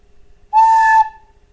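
A Clarke tin whistle gives one short, shrill squeak on a note, a piercing tone that lasts about half a second in an otherwise quiet room.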